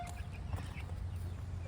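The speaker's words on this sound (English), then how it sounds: "A rooster." Rooster on a farm clucking and calling softly over steady low rumbling background noise, faint and fairly close.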